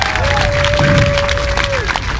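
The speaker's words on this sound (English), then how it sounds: "Let's give a round of applause for all the amazing North Idaho representation that we have." Applause and cheering from a crowd at an outdoor rally against mask mandates in North Idaho, a steady dense wash of clapping lasting throughout, with a sustained whistle-like tone and scattered voices mixed in.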